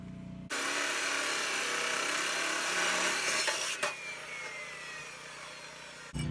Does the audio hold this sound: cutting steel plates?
yes